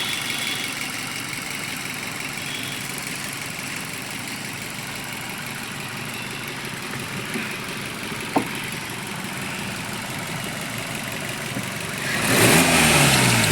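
A Maruti Suzuki Ignis engine runs steadily at idle, a continuous mid-pitched hum with a faint click partway through and a brief swell of louder noise near the end.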